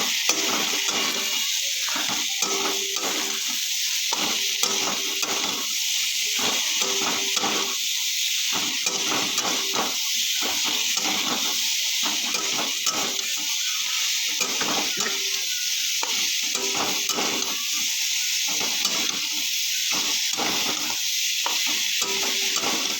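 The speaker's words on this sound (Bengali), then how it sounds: "তরকারি সুন্দর করে কষিয়ে নিয়েছি" Spiced vegetable curry sautéing in a pan with ground coriander, cumin, chilli powder and ginger paste, giving a steady sizzle broken by repeated stirring scrapes and clinks, close and continuous throughout.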